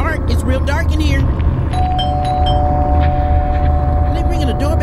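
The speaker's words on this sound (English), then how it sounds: "Are they ringing a doorbell in the tub?" A doorbell chiming inside a dark horror video game, a sustained tone ringing over droning ambience while a person talks excitedly over it.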